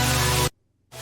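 A stack of detuned saw synths plays sustained chords in a melodic dubstep arrangement, panned left and right; a loud, dense held chord cuts to silence midway, then returns.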